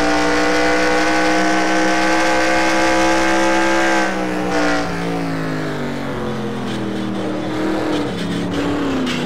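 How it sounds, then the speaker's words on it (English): An onboard engine roar from a NASCAR Racing 2003 video game stock car, the GM-sponsored No. 10 at Dover, droning loud and steady at high revs with a slight pitch dip partway through, no talk. "we're on board with the GM Plus R in the 10 car"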